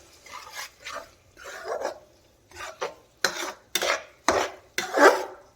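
Egg bhurji and vegetables being stirred in a pan, with a spoon scraping and clinking against the metal in a series of short, uneven strokes, close up, with no voices.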